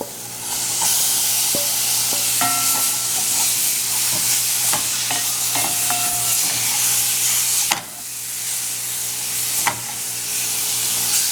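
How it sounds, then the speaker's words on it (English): Loud, continuous sizzling as beef fries in curry in a pan, punctuated by clanks and scrapes of stirring, with a brief dip before the hiss resumes. "Then I'm going to be adding my beef."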